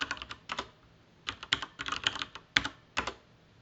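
Someone types a command on a computer keyboard in short bursts of key clicks separated by brief pauses, close and clear with no voices.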